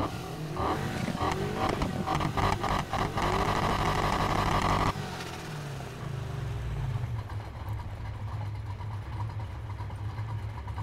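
Ferrari 488 GTB in the racing game NFS Heat, a loud, continuous engine roar with revving pulses, then a lower, rumbling drone after a sudden shift about halfway through.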